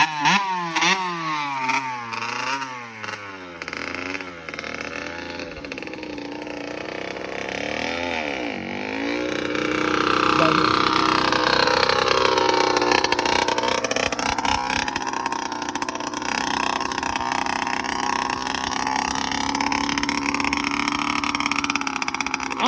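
A small dirt bike engine ridden by a young boy climbs and falls through revs, then holds a louder, sustained whine as it pulls away in second gear, buzzing nearby with steady droning pitch.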